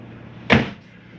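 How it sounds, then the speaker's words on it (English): A door or drawer shutting inside a Catalina 243RBS travel trailer RV, one short solid thump midway through, fairly close, with quiet room noise before and after. "Make sure all doors and drawers are closed"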